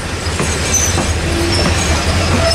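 A diesel locomotive train rolls past nearby at a railway museum with a low steady engine drone, rhythmic wheel clatter and occasional faint metallic squeals.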